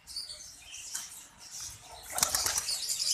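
A pigeon takes off and flies to its roost on a rooftop perch, with a soft rustle of wings that builds into a brief, louder flurry of flapping near the end.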